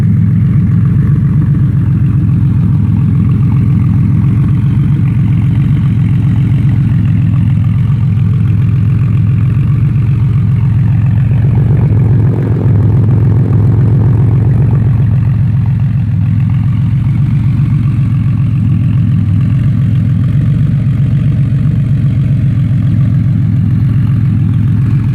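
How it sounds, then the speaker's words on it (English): A 1986 Porsche Carrera 3.2 idles steadily with a Bisimoto exhaust whose silencer has been removed, leaving it close to a straight pipe. The deep, loud, even rumble is recorded up close and holds a brief rise in the middle. "the Bisimoto exhaust with the silencer removed, so it's almost a straight pipe."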